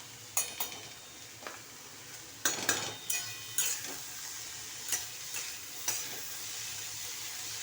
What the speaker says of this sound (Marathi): पाच मिनटं फक्त असा फ्राय होऊन द्यायचा